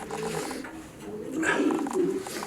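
Soft pigeon cooing rises in low, throaty pulses over a steady background hum, with a couple of louder coos toward the end.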